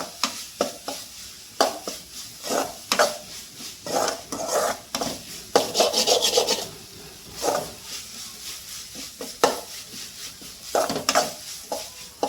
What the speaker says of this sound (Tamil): ஸோ இப்போ இந்த தக்காளியை நல்லா வதக்கணும்.